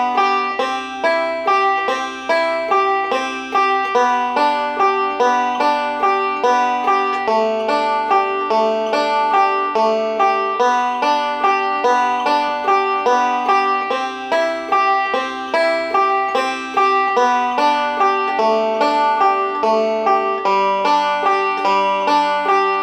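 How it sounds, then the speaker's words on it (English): Bluegrass banjo picking steady eight-note rolls on the tune Boil Dem Cabbage, with the thumb on the fifth string taking the last note of each group; bright, even, continuous plucking close up for over twenty seconds. "substituting just the thumb on the 5th string for the last note of every group of"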